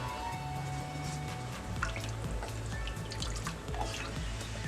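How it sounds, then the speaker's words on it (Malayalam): Water poured into a pot of parippu rasam made with sambar dal, heard as a steady close trickle with scattered drips and splashes, continuous for a few seconds with no talking. "ഞാൻ ഇതിലോട്ട് ആവശ്യത്തിനുള്ള വെള്ളവും കൂടെ ചേർത്ത് കൊടുക്കുകയാണ്"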